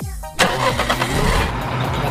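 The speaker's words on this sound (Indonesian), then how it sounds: "Nah, kebenaran nih ada mobil." Car engine starting with a sharp crank, then settling into a loud, steady idle and rumble close by, with speech faintly audible before it catches.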